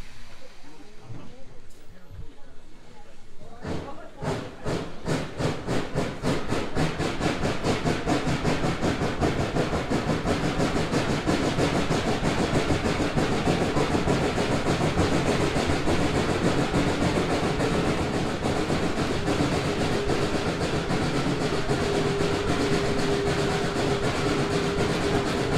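Cass Scenic Railroad steam locomotive starting to roll on a grade after its handbrake is released, loud close chuffs that quicken into a steady rolling rumble with hiss, clanking and talk mixed in.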